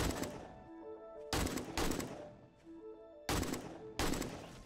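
Gunfire in the survival game 7 Days to Die, heard as four loud bursts of rapid shots spaced roughly a second apart, with quieter game ambience ringing between them and no talk.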